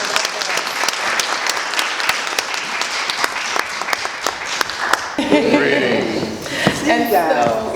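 Loud, steady audience applause at a business and book launch soirée at The Deacon in Philadelphia, sustained rapid clapping that gives way to crowd chatter near the end.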